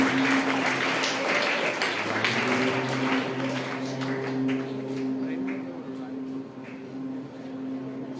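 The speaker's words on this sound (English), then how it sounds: "A good round of applause for these students." Applause for prize-winning students at an Ayurveda Day celebration in Porvorim, Goa, moderate clapping from a gathered crowd over a steady low hum, fading somewhat toward the end, with faint background voices mixed in.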